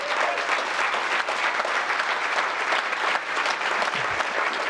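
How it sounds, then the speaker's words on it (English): Sustained audience applause fills a hall at a BMX open house presentation after news that USA BMX nationals events are coming to the venue, dense and steady throughout with a faint voice near the end. "that's all the applause for the people that don't have to travel quite as far now"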